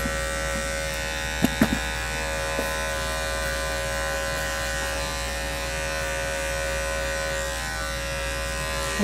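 An Andis 5-speed electric clipper with a size 40 blade trims the paw pads of a Cairn Terrier, a steady close electric hum running throughout, with a couple of brief knocks early on and no speech.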